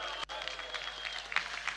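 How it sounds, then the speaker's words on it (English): Audience applause from a university student crowd in Nairobi, a steady dense patter of clapping lasting under two seconds with no talk. "Come on, give a round of applause."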